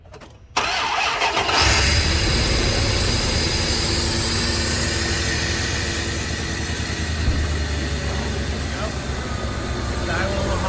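A car engine cranks and catches, then settles into a loud, steady idle that runs on alone, up close, right after its idle air control valve was replaced and the throttle body cleaned, with the air intake still off.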